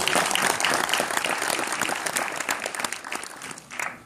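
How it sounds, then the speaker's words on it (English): A lecture audience at a talk on unconscious bias and diversity breaks into dense, loud clapping that holds steady, then thins slightly toward the end, with no voices over it. "Clap your hands if you like it."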